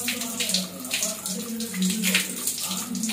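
Running water from a tap rinsing hair after a home straightening treatment, a steady close splashing and gushing flow with slight fluctuations throughout.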